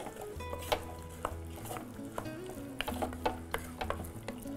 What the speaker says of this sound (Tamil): இதையும் போட்டு நல்லா மிக்ஸ் பண்ணிக்கலாம்.